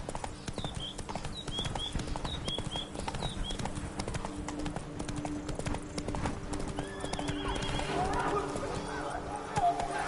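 Roach the horse galloping in The Witcher 3, a rapid continuous clip-clop of hooves close by, with bird calls and game ambience around it and a brief whinny-like cry near the end.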